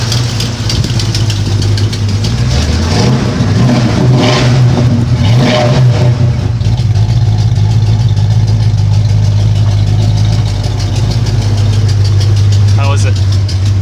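A 1977 Mustang engine starts and revs several times before settling into a loud, steady idle close by, with people talking over it.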